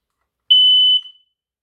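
A hardwired smoke detector sounds a single loud, piercing electronic beep of about half a second, pressed on its test button, alone in silence.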